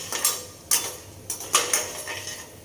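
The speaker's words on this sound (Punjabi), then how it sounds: "ਚੰਗੀ ਤਰ੍ਹਾਂ ਆਪਾਂ ਇਹਨੂੰ ਭੁੰਨਾਂਗੇ ਤਾਂ ਜੋ ਕੱਚੀਆਂ ਨਾ ਰਹਿ ਜਾਣ ਮੂੰਗਫਲੀਆਂ" Peanuts roasted in a pan for poha, stirred with a utensil that clinks and scrapes against the metal in several sharp, uneven knocks over a soft background sizzle.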